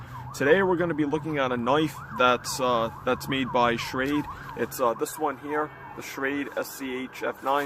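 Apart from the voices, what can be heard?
police sirens in the background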